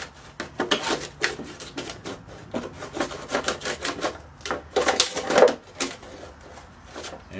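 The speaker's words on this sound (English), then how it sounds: "And now I'm going to cut around this plant, this pot." Something is cut around a plant pot with a quick run of close, scratchy rasping strokes in an irregular rhythm, fairly loud and without talk.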